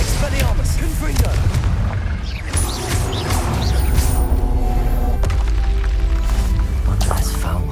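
A Confringo fire spell blasts off in Hogwarts Legacy during a combat sequence, a booming explosive burst amid clanking, crashing battle effects and layered game sounds that stay dense and loud throughout.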